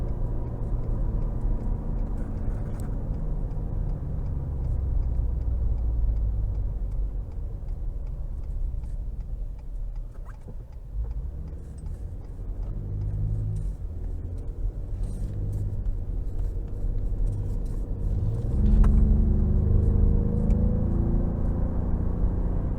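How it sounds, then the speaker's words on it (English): Engine of a 2018 Ford F-150 Raptor with a 10-speed gearbox, driven in sport mode, drones steadily from inside the cabin, with low rumble swelling and easing as revs change and a louder surge near the end. "in sport mode, this Raptor loves to rev hot, even with this 10-speed"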